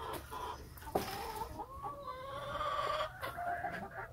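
Hens in a backyard chicken coop giving soft, drawn-out clucks and rising murmuring calls, several overlapping notes close by over a few seconds, with no talking.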